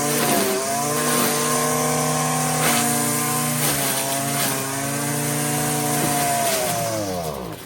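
A small gas string trimmer whines loudly and close, its pitch rising and dipping as the throttle changes while it cuts through weeds.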